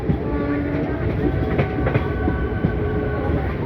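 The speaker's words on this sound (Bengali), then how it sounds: "তো আমাদের ট্রেন এখন এসে ঢুকছে" A crowded local train on the Tarakeswar–Sheoraphuli line pulls into Singur station, a loud, continuous rumble of wheels and carriages with faint clatter throughout.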